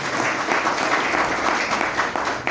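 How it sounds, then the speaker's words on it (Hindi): Audience applause for the speaker at a business development seminar, a full, steady roomful of clapping throughout. "सर के लिए एक बार जोरदार ताली।"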